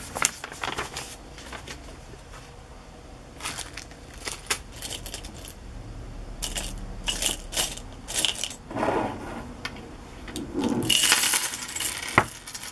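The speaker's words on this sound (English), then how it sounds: "Looking for my vintage buttons." Vintage sewing buttons rummaged through by hand during a craft session, giving a steady, close clatter of small flat pieces clicking and sliding against each other in irregular bursts, with no talking.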